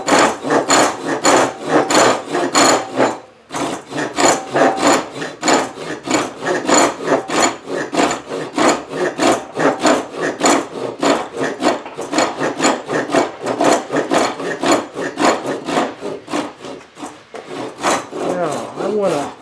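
Rapid rhythmic rasping strokes of a hand saw cutting dovetail sockets in wood, loud and close, with brief pauses between runs of back-and-forth sawing.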